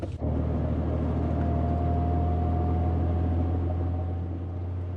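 Jeep TJ on 33-inch tires with 3.07 gears accelerating onto a highway: a loud, steady engine drone with a slowly rising whine, starting abruptly after a brief opening thump.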